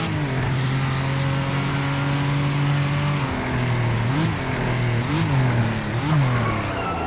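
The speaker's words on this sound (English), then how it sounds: "Love the noise of that turbo." A turbocharged race car engine drones loud and close in the Project Motor Racing sim, holding a steady pitch before several quick rev rises and dips as it shifts and brakes, alone with no talk.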